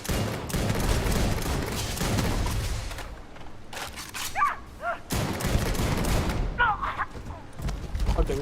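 Shotgun fire in Starfield: heavy, loud blasts in bursts at the start and again midway and near the end, with someone talking and brief game noises in the gaps.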